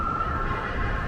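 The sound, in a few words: ambulance siren in city street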